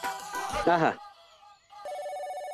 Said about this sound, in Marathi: अरे देवा, नेमका एक फोन आला मला